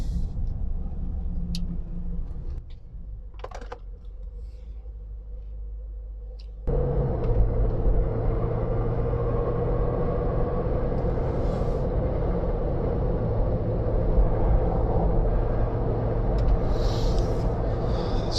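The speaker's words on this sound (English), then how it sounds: "Still love the way this car pulls up to speed so well," A Range Rover L322 4.4 TDV8 on all-terrain tyres: road rumble steps up abruptly partway through and keeps a loud, steady roar as it gathers speed, with faint hiss on top.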